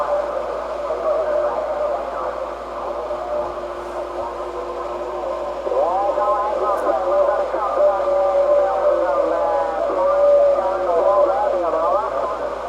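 CB radio on a Galaxy DX959 with a Jose O CA LC5304 and the Galaxy Noise Filter engaged, giving a steady band hiss with a warbling, distorted voice coming through over it, loud and continuous.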